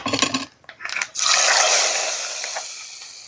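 After a few clinks of a pan and utensil, hot tempering poured into a pan of onion sambar erupts in a loud, close burst of sizzling that slowly fades but keeps hissing to the end.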